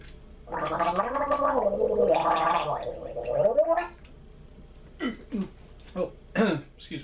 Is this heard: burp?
yes